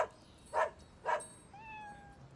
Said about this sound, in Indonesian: Sementara itu di kamar mayat Dr. Lauren dihampiri kucing Rosenberg